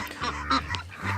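Ducks give a few short, nasal honking quacks in quick succession, fairly close and moderately loud, with no talking.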